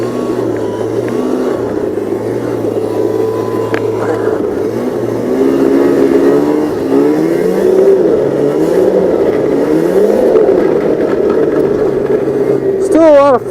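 Snowmobile engine revving loudly and continuously while riding over thin, drifted snow near dirt, the pitch rising and falling with throttle, close to the microphone throughout.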